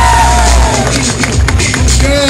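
A crowd cheers, whoops and claps for a performer at a motorcycle show in Dortmund, a loud, dense roar with shouting voices throughout.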